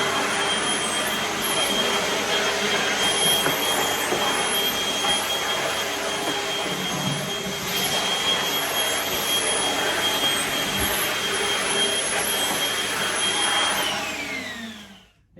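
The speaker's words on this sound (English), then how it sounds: "The Dyson brush bar is amazing on carpets." A Dyson cordless vacuum cleaner runs with a steady, loud motor whine and airflow roar lasting about fourteen seconds before winding down at the end, with no talking.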